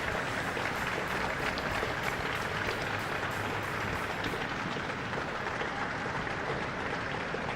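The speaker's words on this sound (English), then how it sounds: "Applause from the parents." Parents applauding outdoors on a hot summer's day as under-14 boys' football teams walk out for an inter-county cup match, continuous, broad clapping from a crowd at moderate distance throughout.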